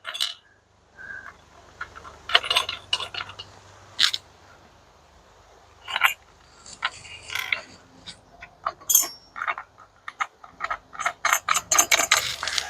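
Nuts on the mounting brackets of an OpenRoad shower awning being tightened with a ratchet wrench, producing rapid bursts of close metallic clicking in several separate runs, with little talk.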